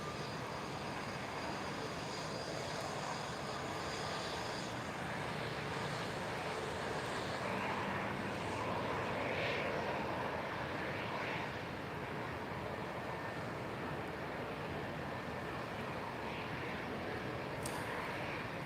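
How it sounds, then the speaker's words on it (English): A Boeing 787 Dreamliner airliner at Lisbon Airport on a cloudy, windy evening gives a steady, distant engine roar that holds through the whole stretch under wind noise, with a faint voice briefly in the background. "787 Dreamliner, which one is this?"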